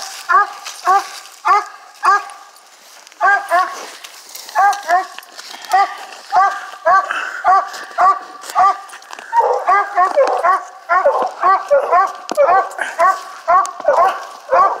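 A dog barks repeatedly outdoors in rhythmic bursts of yips and bow-wows that sometimes break into whimpers, continuing steadily and fairly close during a hunt in East Texas woods.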